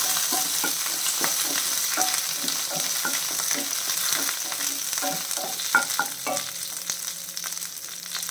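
Dried red chillies and curry leaves fry in hot oil, crackling and sizzling close up while a spoon stirs with frequent light scrapes and taps, steady throughout with no voices.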